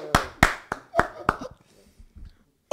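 A church congregation gives a short burst of applause to acclaim the Lord, a handful of sharp claps that quickly thin out into sparse taps.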